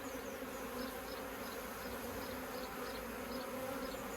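Honeybees in an opened, previously abandoned hive produce a constant dense buzzing drone, steady and close throughout, with no voices.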